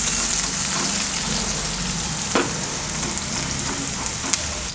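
Finely chopped ginger and garlic fry in hot oil in a pan, a dense, steady close sizzle with occasional stirring scrapes and no talking.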